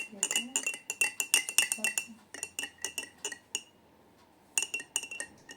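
A metal spoon clinks rapidly against a glass in quick bursts of stirring, with short pauses between bursts and no talking.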